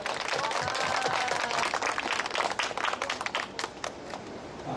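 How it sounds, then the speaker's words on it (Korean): An audience at a civic gathering about a Samsung-related trial breaks into hearty applause, a dense wash of many hands clapping steadily for several seconds before thinning out. "힘찬 박수 부탁드립니다."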